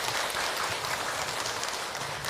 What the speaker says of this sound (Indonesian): Tepuk tangan ibu untuk Hilman.